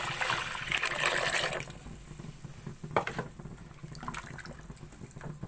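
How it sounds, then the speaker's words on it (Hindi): Cooking water from red lobia beans pours into a pot, a bright, loud gush for about a second and a half, followed by quieter clinks and knocks of the pot and utensils. "अब मेरे पास जो लोबिया वाला पानी है वो शामिल कर लूंगी।"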